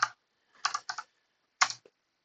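Short clusters of keystrokes on a computer keyboard, three or four quick close bursts of typing separated by silence.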